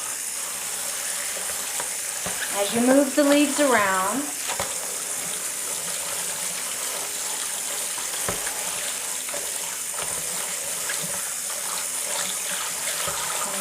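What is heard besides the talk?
tap water filling a bowl while rinsing kimchi cabbage leaves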